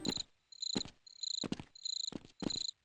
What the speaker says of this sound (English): There's also a really loud cricket sound that plays during this part.